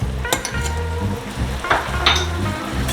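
Butter sizzling steadily in a hot pan while being stirred, with scraping and stirring strokes over continuous frying crackle, close and fairly loud.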